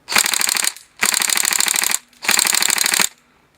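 A Tokyo Marui AK102 airsoft gun fires 0.2 gram BBs in three loud, close full-auto bursts, each a rapid mechanical rattle of shots separated by short pauses.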